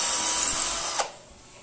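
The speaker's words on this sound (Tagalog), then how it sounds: "Matigas yung kahoy na yan, kaya hinayaan ko na lang yung drill magtrabaho." A Mustool cordless hammer drill boring into hard wood, a steady high-pitched whine under load for about a second before cutting off abruptly, close and loud.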